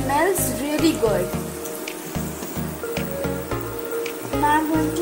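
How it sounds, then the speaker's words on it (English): Chopped garlic sizzles in melted butter for an au gratin sauce, a steady close frying crackle with occasional stirring, under rhythmic background music. "As it is melting, I'm going to add the chopped garlic."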